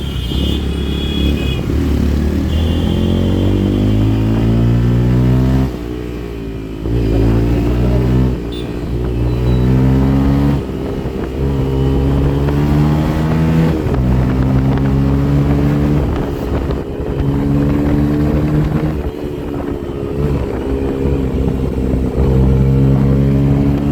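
A petrol motorbike engine revs hard again and again, each rev rising in pitch and then dropping back, loud and close over a steady engine drone.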